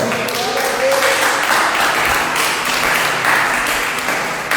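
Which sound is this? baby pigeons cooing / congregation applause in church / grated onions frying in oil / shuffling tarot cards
congregation applause in church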